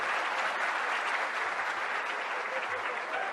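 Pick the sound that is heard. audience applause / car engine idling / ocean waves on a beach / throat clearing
audience applause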